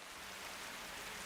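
Rain falls in the video game Metal Gear Solid as a faint, even hiss of steady drops, with no talk over it.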